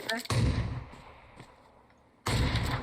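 Loud gunshot blasts in the battle-royale shooter PUBG Mobile: one sharp report near the start and another near the end, with faint scattered shots in between as the sound trails off.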